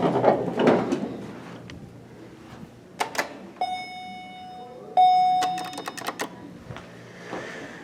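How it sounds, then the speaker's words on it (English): An elevator's call bell in a loud Hadfield hydraulic modernized lift at The Hotel Hershey in Hershey, PA, dings twice with clear sustained tones, set among clunks, clicks and rattling cab noises. "So we can go ahead and ring the bell."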